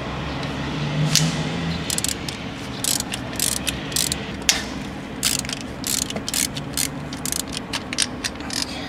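Hand ratchet loosening the two 12 mm timing belt tensioner bolts on a Mitsubishi 2.4L SOHC engine, close, loud bursts of rapid clicking pawl strokes with short pauses between them, no talk.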